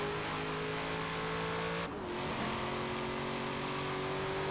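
A Chevy engine drones steadily at high revs in Forza Horizon 4, then drops pitch in a quick gear shift before pulling back up to a sustained, even whine.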